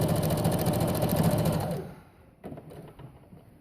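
A sewing machine stitches a men's dress shirt being remade into a peasant blouse, running loud and steady with a fast rapid pulse for nearly two seconds, then stopping abruptly, followed by faint handling clicks.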